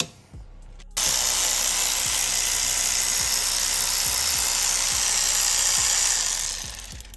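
A power tool drives off the last cylinder head bolt on the passenger side of an engine, running as a steady loud whir for several seconds, with a faint rhythmic knock underneath. It starts abruptly and tapers off near the end.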